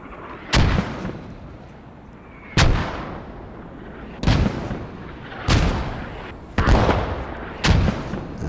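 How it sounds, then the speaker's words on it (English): Mortar fire in a military strategy video game: six heavy booming blasts at irregular intervals, each with a sharp onset and a long rumbling decay, loud and with no talk over them. "there's the first mortars."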